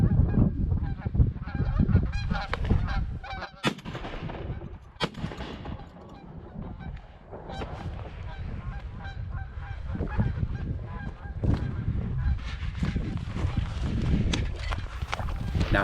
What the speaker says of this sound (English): And before long, I hear geese. And here they come out of the sun.